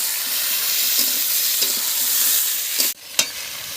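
Bay leaf, cumin, onion and potato fry in hot oil with a loud continuous sizzle, broken by stirring scrapes and a brief sharp dip and spike near the end as more is added.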